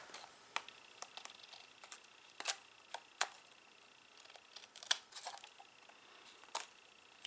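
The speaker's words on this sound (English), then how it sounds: "Flip this over and go ahead and cut these pieces off." Scissors snip through paper pieces for a scrapbook layout, a scattered series of quiet, crisp clicks and snips at an uneven pace in a hushed room.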